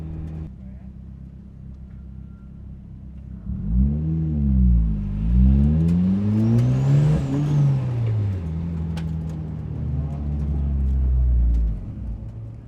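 A turbocharged Mazda Miata engine idles at a race track, revs up and down with a rising and falling pitch, then settles and cuts off near the end.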